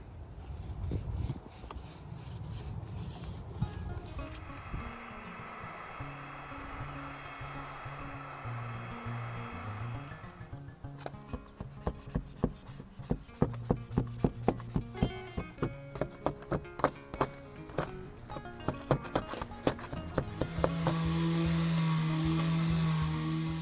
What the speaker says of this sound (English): You want to talk about painstaking sanding.